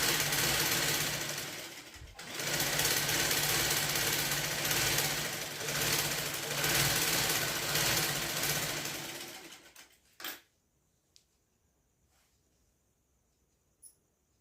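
A sewing machine stitches a blouse in a steady, loud mechanical whir for about ten seconds, then stops abruptly, leaving near silence with a couple of faint clicks.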